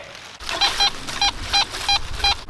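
A metal detector gives a loud repeated tonal beep, about six short warbling pulses in a steady rhythm over faint outdoor background near a wall in the woods.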